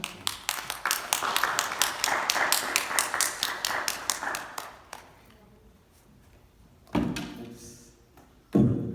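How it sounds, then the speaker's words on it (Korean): Welcoming applause from a Korean Baptist church congregation at Sunday service as the pastor comes forward, a burst of many hands clapping that swells and then fades out, followed by silence and a couple of thumps. "우리 유 목사님 앞으로 오실 때 우리 함께 또 환영의 박수로 이제 하겠습니다"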